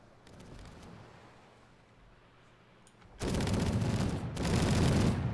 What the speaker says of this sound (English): Please don't shoot through my masts.